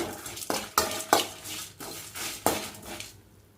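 Curry leaves sautéed in a pan with dried red chillies for bottle gourd curry: a run of sharp metal spoon clinks and scrapes against the pan at an uneven pace, over a faint sizzle, with no voices.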